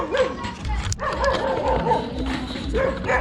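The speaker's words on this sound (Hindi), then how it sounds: "यहाँ के डॉगी को देखो दोस्तों" A long-haired dog in snowy Nainital lets out a few short yips and whimpering barks amid outdoor crowd chatter and voices.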